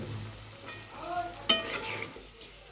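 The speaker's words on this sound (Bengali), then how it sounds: "এখন আমি মশলার সাথে মাছগুলো কষিয়ে নেব" Pangas fish stirred and fried with spice paste in a pan, a soft close sizzle with a few scraping strokes and one sharper clink of the spatula.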